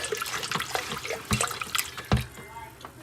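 Water swished around inside a VEVOR container during cleaning, producing close sloshing and splashing bursts with a few sharper splashes, no talking.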